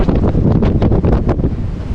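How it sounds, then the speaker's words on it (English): Strong wind roaring across the microphone on an exposed coastal point, a loud continuous buffeting rush with gusty pulses and no voices. "As you can clearly hear and see, it's super windy on this point."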